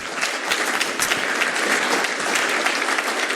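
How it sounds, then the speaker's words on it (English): An audience at a security conference talk applauds steadily for a few seconds, a dense patter of many hands clapping at fairly close range with no voices. "Let's give first the round of applause for the brilliant talk."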